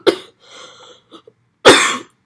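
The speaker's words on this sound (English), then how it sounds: "I've been coughing too much" Two sharp, close coughs separated by a moment of softer throaty breathing sounds, the second cough louder and longer.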